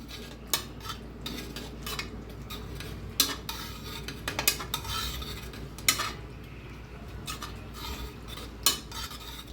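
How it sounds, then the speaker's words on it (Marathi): A metal spoon mashes cooked chickpeas in a pan of frying masala, producing repeated close scraping and tapping knocks against the pan over a low sizzle. "तरी बी थोडंसं मॅच करून घेऊया चमच्यानं."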